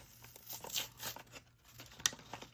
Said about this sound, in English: So I guess I'm gonna peel this off and we will see where we're at